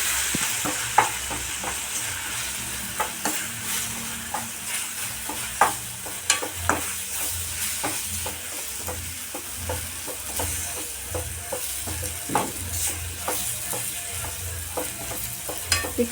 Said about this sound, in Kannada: 3 ಸ್ಪೂನ್ ಸಾಂಬಾರು ಪುಡಿ ಹಾಕ್ತಿದ್ದೀನಿ. ಆಮೇಲೆ 2 ಸ್ಪೂನು ಖಾರದ ಪುಡಿನ ಹಾಕ್ತಾಯಿದ್ದೀನಿ. ಚೆನ್ನಾಗಿ ನಾವು ಮಿಕ್ಸ್ ಮಾಡೋಣ.